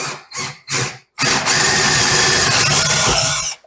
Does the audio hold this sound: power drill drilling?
yes